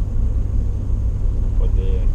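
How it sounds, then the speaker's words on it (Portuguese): A 4x4 vehicle drives along a snowy road with a continuous low engine and road rumble heard from inside the cabin. Voices talk faintly over it. "Estamos andando no 4x4."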